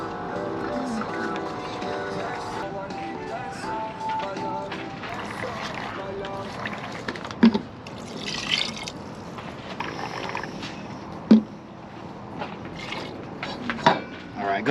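Two and a half cups of water poured into a camp pot for jambalaya at an Arizona base camp, a running trickle with drips and occasional clanks, while people talk nearby.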